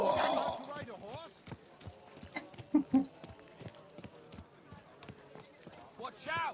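Horse hooves clip-clop steadily in the medieval video game Kingdom Come: Deliverance II, a regular trotting rhythm under game voices shouting at intervals.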